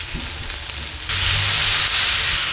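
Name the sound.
chicken sizzling as it fries with tomatoes in pan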